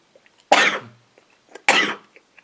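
Two sharp, harsh coughs about a second apart, close and loud, with quiet gaps around them.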